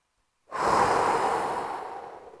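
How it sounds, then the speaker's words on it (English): A single deep breath taken during tuba breathing practice, a sudden full airy inhale that slowly fades as it flows out, close and alone. "take a nice full breath, and feel your body expand on the inhale"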